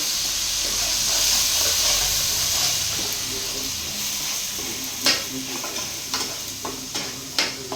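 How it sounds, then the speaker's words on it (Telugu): Masala fries in a pan for a fish curry, giving a steady sizzle and hiss that fades slightly, followed by several sharp spoon scrapes and taps against the pan toward the end. "ఇటువంటి మసాలా వేసేస్తున్నా మసాలా బాగా ఫ్రై అవ్వాలి"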